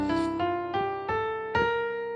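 C Mixolydian scale played on piano, five clear sustained notes struck one after another at an even, unhurried pace, close and ringing, with no voice.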